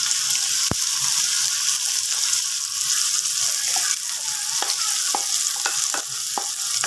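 Green onions fry in hot oil in a pan for a green onion sauce, a loud continuous sizzle with sharp clicks of stirring scattered through the second half, no talk.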